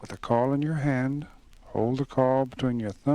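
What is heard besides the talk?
No everyday noise stands out behind the speech.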